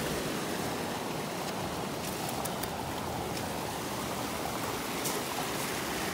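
Floodwater at a pond rushes and swirls down into a spillway pipe, a steady, close, continuous watery roar with no voices.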